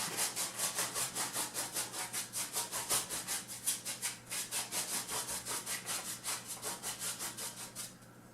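A palette knife or blade scrapes wet oil paint off a still-life canvas of a pear, in steady back-and-forth strokes about three per second, close and fairly loud, with no voices.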